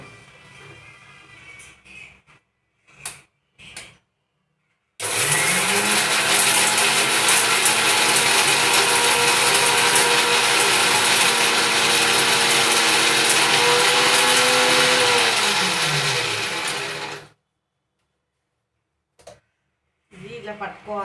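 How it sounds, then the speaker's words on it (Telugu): A kitchen mixer grinder runs with salt, chili powder and turmeric for a fish fry, giving a loud, steady high whine and grinding roar for about twelve seconds, bracketed by brief clicks and quiet moments. "ఇదైతే మిక్సీ పట్టుకుంటున్నాను."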